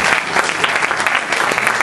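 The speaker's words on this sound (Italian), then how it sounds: "Quindi ancora un applauso." Dense, steady applause from an audience at a film presentation in Somma Vesuviana, loud and continuous throughout with no voices on top.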